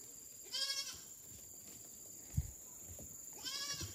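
Mountain goats on a farm bleating, two short wavering calls near the start and end over quiet background with a faint thump.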